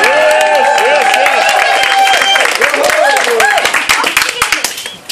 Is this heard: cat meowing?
no